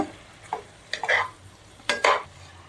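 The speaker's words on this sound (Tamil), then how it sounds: "இதை நல்லா கிளறி விட்டுக்கோங்க" Soya chunks coated in masala are stirred in oil over a low flame, with a few short scraping strokes against the pan. The scrapes come in uneven bursts over a soft background sizzle, and no one talks.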